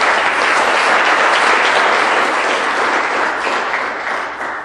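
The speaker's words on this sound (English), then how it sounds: "Big round of applause for our panel, please." An audience at a cannabis reform conference claps for a panel, a loud, close, continuous roar of many hands that stays even for several seconds and then starts to taper, with no talking over it.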